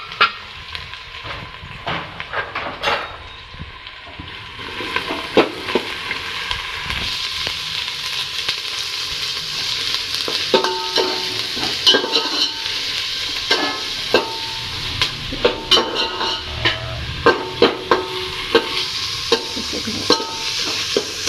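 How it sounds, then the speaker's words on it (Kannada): Garlic, green chillies and onions fry in a pan with steady sizzling and hiss while a utensil stirs and scrapes through them in repeated clicks and scrapes, close and fairly loud throughout, no talking. "ಹಸಿಮೆಣಸಿನ್ಕಾಯಿ ಹಾಕಿದ ತಕ್ಷಣ ನಾವು ಈರುಳ್ಳಿಯನ್ನು ಹಾಕೊಳ್ಳೋಣ"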